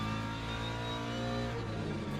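Le Mans race car in a racing video game, its engine holding a steady, loud revving drone with strong harmonic tones that shift slightly in pitch, continuous and close with no voices.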